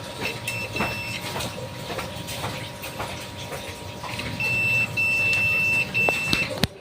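A thin electronic motorcycle side-stand switch buzzer on a Honda Beat injection scooter beeps in short repeated bursts, starting briefly then returning in a longer steady run, over low background hum.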